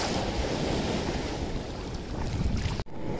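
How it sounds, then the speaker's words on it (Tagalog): Steady roar of ocean surf rolling in, with gusts of wind buffeting the microphone and a brief cut near the end. "Kita nyo naman, ang laki ng alon oh."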